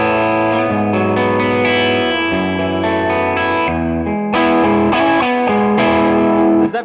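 A Novo electric guitar played through its bridge pickup with an overdriven rock tone: distorted chords and riffs ring loudly and continuously, with shifting chord changes and no talking.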